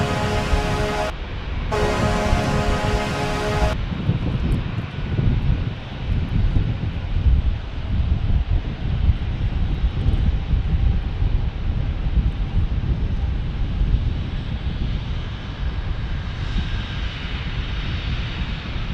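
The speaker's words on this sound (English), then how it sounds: "Rainy Cajun, just in time for British Airways taking off." A British Airways jet takes off in the rain at San Diego airport with a sustained, powerful engine roar and low rumble that holds steady. A short tonal burst sounds near the start.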